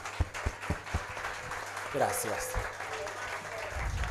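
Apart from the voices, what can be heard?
audience applause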